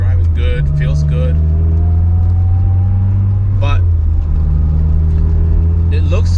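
Supercharged car engine revving hard through the gears while driving, a loud steady drone with rising harmonic whine and shifts, a brief word spoken over it.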